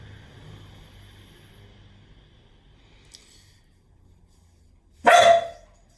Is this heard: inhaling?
no